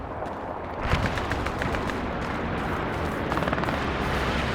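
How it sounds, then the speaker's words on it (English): Gunfire in the WWII shooter Hell Let Loose, a dense stretch of distant and mid-range shots with a sharper crack near the start and rattling bursts later, over steady battlefield rumble. "I'm getting shot at from somewhere down there"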